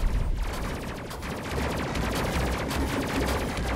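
Rapid, continuous gunfire bursts from an upgraded rail gun in the space combat game Space Crew, loud and dense throughout with repeated sharp shots and no talk.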